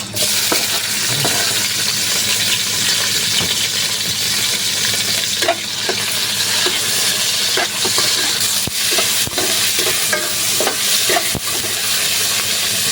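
Onion, garlic and tomato sautéing in hot oil in a pan, a steady loud sizzle with occasional clinks and scrapes of stirring throughout.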